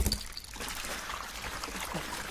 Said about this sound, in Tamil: கேண்டா தலையில தண்ணி எடுத்து ஊத்திக்கிறான்.